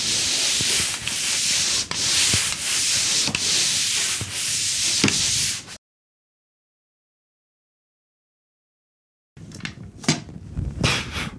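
Repeated rhythmic scraping strokes of sanding drywall joint compound on a ceiling patch, close and loud, then a long silence before more sanding strokes resume.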